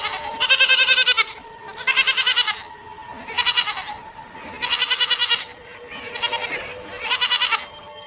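Goats in an animated story bleat six times in a steady rhythm. Each call is loud, close and vibrato-rich, with brief quiet gaps between them.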